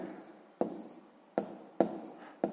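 A sixth-grade math fraction solution is written out by hand. Crisp strokes and taps come in short bursts, each dying away before the next, close and clear with no voices.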